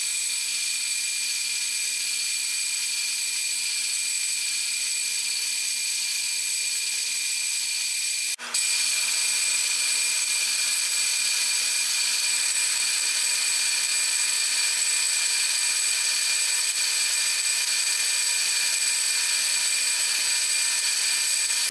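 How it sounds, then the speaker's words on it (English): A steady high-pitched whine of a drill press drilling wood for a Strat guitar neck, running continuously with a brief cut partway through before the drilling resumes, loud and close. "So I'm doing this on the drill press because it's easy,"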